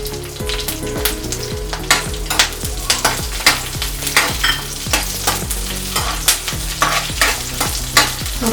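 Green chillies frying in 4 to 5 tablespoons of hot oil in a kadhai, a steady close sizzle broken by rhythmic scraping stirs of a spatula against the pan.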